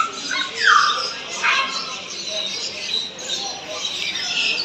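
Birds squawk in a pet shop in Kuwait City, sharp chirps and calls rising over a busy, noisy shop background, with a couple of louder cries near the start.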